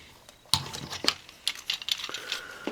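Plastic parts of a Transformers Generations Sandstorm toy are clipped together and folded, giving a string of small, sharp, close clicks and snaps at an uneven pace.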